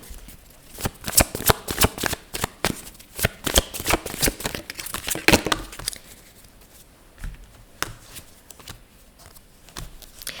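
Tarot cards are shuffled on a square table in rapid, dense riffling bursts for about six seconds, then give way to sparser, softer card flicks and handling.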